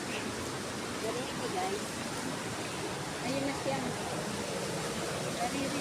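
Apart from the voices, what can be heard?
waterfall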